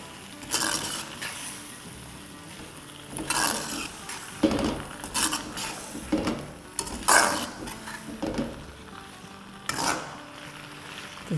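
Steak with vegetables stir-fried in a pan: a soft steady sizzle broken by repeated scraping and clattering strokes of a spatula against the pan, fairly close, with no talking.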